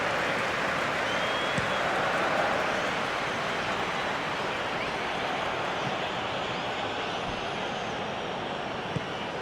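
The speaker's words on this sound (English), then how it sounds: "it certainly got the crowd going" A stadium crowd in the football video game Football Life 2026 roars continuously and loudly, a dense, sustained wash of cheering with no break across the whole stretch.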